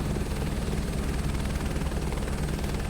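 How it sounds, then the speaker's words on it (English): A helicopter close by during a landing, its rotor and engine producing a loud, steady broadband roar with a throbbing low beat that holds without a break the whole time, and no voices over it. "This is why I shouldn't do landing predictions with helicopters. I touch the ground all the time."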